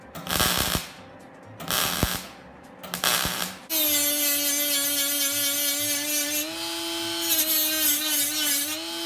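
A grinder works a weld back down flush on sheet metal: a few rough scraping passes come first, then a long, steady, high-pitched whine that shifts slightly in pitch.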